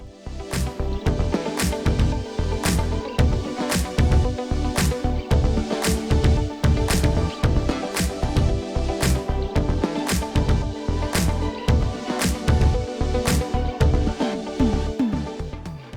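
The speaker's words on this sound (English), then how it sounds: "If you can hear sawing, my next door neighbours are having a new bathroom fitted" Next door, a saw cuts steadily during a bathroom renovation, its back-and-forth strokes repeating in an even rhythm about every half second, continuous and fairly prominent throughout.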